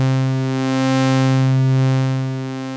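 A steady modular synth drone built from spliced VCO waveforms with detune, rich buzzy harmonics and a slow swelling, phasing motion across a few seconds, loud and continuous with no talk.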